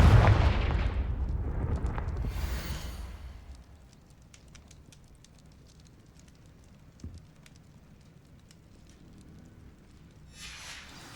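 A fire spell blast in the Hogwarts Legacy video game erupts as a loud, roaring burst that fades over about three seconds, leaving quiet ambience with a faint thud later.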